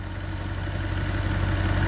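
A 2015 Audi RS5 Cabriolet's 4.2 litre V8 idles steadily with a smooth, even low burble, close and fairly loud, with no talk over it.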